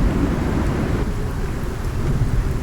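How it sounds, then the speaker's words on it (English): A thunderstorm in the arctic zone of the survival game Icarus, with steady heavy rain hissing and a deep continuous rumble of thunder rolling underneath, loud and unbroken, no voices. "Alright, the storm is almost over."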